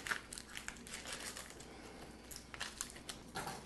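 The papery outer layer of an onion is peeled back by hand, giving soft, close crinkling and crackling that comes and goes in small bursts against a quiet background.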